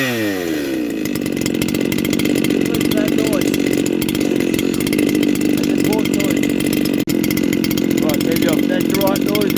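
A ported Shindaiwa 731sx chainsaw running at full throttle, cutting Australian hardwood, a loud, close, steady high-pitched engine whine with a brief dip near the end.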